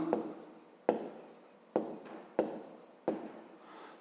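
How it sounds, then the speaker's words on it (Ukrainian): Pen writing by hand on paper during a fifth-grade geometry exercise, five distinct scratchy strokes at a steady pace, each starting with a tap and trailing off, close and fairly quiet with no speech. "пишемо ламана"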